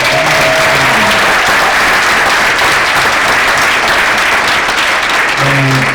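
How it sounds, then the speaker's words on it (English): Loud, dense applause from an audience at an award ceremony, a steady roar of many hands clapping for the winners, sustained throughout. "let's give the winners a big round of applause"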